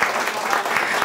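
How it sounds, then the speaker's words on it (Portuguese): A small group at a barbecue cooking session claps in a brief, close burst of applause lasting about a second. "Uma salva de palmas para esse camarada."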